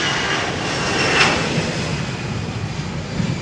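An aircraft on runway 27R at London Heathrow gives off a continuous jet roar at moderate distance, swelling slightly midway before settling into a steady broadband rumble, with no voices heard.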